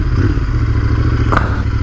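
A Royal Enfield motorcycle engine thumps loud and close at low revs in first gear, a steady deep throb with a brief clatter partway through.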